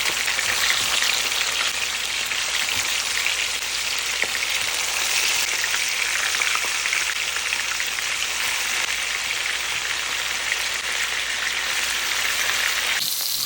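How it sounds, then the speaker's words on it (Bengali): Marinated chicken pieces fry in about a cup of hot oil in a frying pan, giving a loud, continuous crackling sizzle that holds steady throughout before cutting off abruptly, with no talk. "যখনই তেলটা গরম হয়ে আসবে তখনই আগে থেকে মেখে রাখা সেই চিকেনগুলো দিয়ে দিচ্ছি।"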